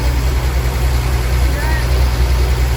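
A Willys truck's 226 engine runs in a steady, loud low rumble throughout.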